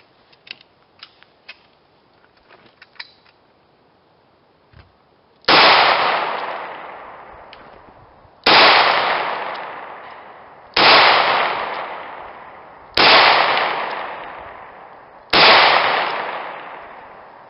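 A .38 Special revolver fires five loud, close gunshots at roughly two-second intervals, each ringing out in a long decaying echo, after a few seconds of quiet handling clicks.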